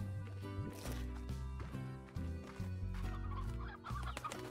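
Hens cluck in a Slime Rancher video game, with repeated short clucks over steady game music that runs throughout.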